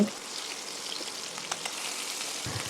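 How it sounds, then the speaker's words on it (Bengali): Steady crackling sizzle of small puti fish frying in hot oil, close and continuous, with a few soft pops and a light clink at the end. "আমি একে একে উল্টে নিয়ে অপর পিঠটাও ভালো করে ভেজে নিচ্ছি"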